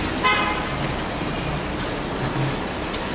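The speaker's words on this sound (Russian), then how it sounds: "Сейчас посмотрим, кто на Каене ездит у нас и сигналит" A Porsche Cayenne sounds a brief horn toot early on, honking once against steady outdoor traffic and street noise with no talking.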